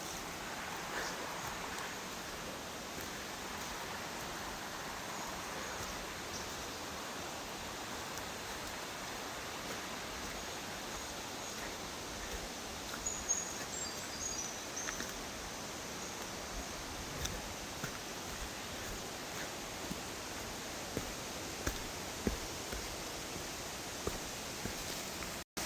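A creek flowing above Narrow Falls on the Obi Obi Creek track gives a steady, broad rush of water that holds at an even level throughout, with a few faint knocks toward the end and no talking.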